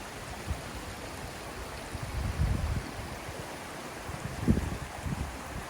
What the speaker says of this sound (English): stream that flows down into the lake from the mountainside